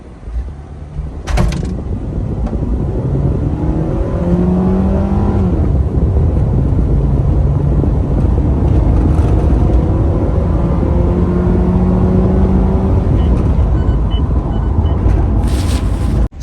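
Car with a cold air intake launching in a 0 to 60 run, engine revving and climbing through several gear changes, loud and heard from inside the cabin, with a brief knock or door sound near the start.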